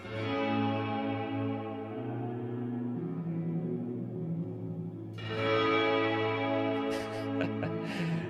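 Electric guitar through a reverb pedal set to a fully wet mix, giving a sustained, organ-like wash of chords that swells, then a new chord blooms at about five seconds with shimmering high overtones, no voices.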